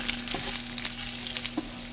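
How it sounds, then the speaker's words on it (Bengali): Butter melts and lightly fries in a pan, a faint, even crackling sizzle with small scattered pops over a low steady hum. "বাটার গলে গেছে এবং হালকা হালকা ভাজাও হয়ে গেছে।"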